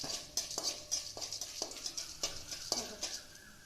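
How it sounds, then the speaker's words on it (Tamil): Mustard seeds splutter and pop in hot oil while tempering for a lemon rice dish, a run of sharp, irregular crackles over a steady sizzle, close and moderately loud. "கடுகு பொரியுது"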